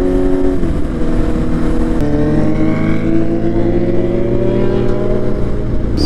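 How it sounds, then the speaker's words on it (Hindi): Two motorcycles with loud new aftermarket exhausts riding on the road in Noida, a continuous close, heavy engine drone with shifting revs and throttle changes throughout. "दोनों के दोनों बाइक्स बहुत ज़्यादा लाउड हो रखी हैं"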